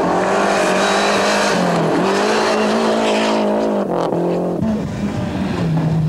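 A 1995 Lancia rally car at Rally Halkidiki in Greece, struggling with clutch problems, roars loud and close with a sustained engine note rising and dropping through gear changes, alone without talk.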